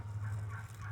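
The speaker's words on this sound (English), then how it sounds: "The chickens are going crazy, the turkeys were going crazy." Free-range turkeys gobble in a brief, faint burst of rapid warbling calls over a low background rumble.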